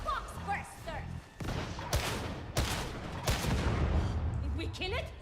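Gunfire in Warhammer 40,000: Darktide, a few heavy, loud shots spaced a second or so apart over busy game noise, with a person talking faintly in the background.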